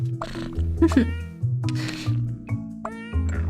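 Cartoonish cats in the video game Cats Organized Neatly give several short meows spaced through the clip, loud and close.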